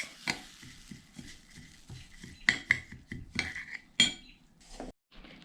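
A utensil stirs still-hot sesame seeds mixed with three tablespoons of added ingredient in a bowl, giving a close run of scraping, clinking strokes with a few sharper knocks against the bowl.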